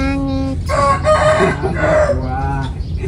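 Close, loud clucking and squawking from farmyard chickens, with a rooster's crow rising among the calls in quick overlapping bursts.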